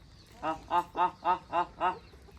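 Ducks at a farm pool let out six evenly spaced nasal quacks, close and clear over a quiet background.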